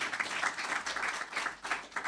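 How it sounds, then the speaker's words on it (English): Scattered, moderately faint clapping from a temple festival audience during a Dussehra celebration, coming in uneven waves over about two seconds. "And let's give them a big round of applause."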